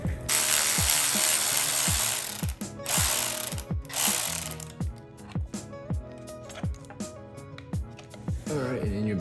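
A ratchet wrench clicks rapidly in repeated bursts while star bolts are loosened and removed from a Triumph Thruxton R motorcycle fairing, with short pauses between strokes and a few metallic handling sounds near the end.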